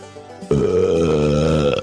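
A single loud, wet belch erupts suddenly and drones for over a second with a throaty, gurgling buzz before cutting off, close and alone.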